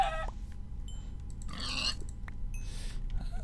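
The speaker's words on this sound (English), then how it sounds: "See chicken." A Minecraft chicken clucks in a few short bursts over a low background rumble, with sparse clicks around it and no speech.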